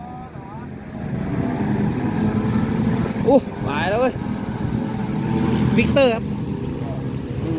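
A Kawasaki motorcycle engine idles and rumbles nearby at a roadside while people talk over it, with a couple of short revs rising in pitch.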